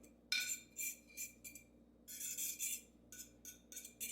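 Parmesan cheese being stirred into Shake and Bake coating mix in a bowl, making a series of soft, gritty scraping strokes in an irregular rhythm against a quiet background.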